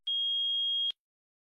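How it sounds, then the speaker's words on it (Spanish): One steady high-pitched electronic beep from a multimeter continuity test, lasting just under a second, clean and continuous, then silence. "Si el multímetro marca 1 y emite un pitido, significa que hay continuidad."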